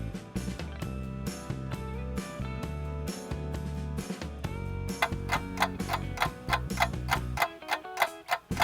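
A clock sound effect ticks steadily in a children's I Spy game, its sharp regular ticks running under loud music throughout.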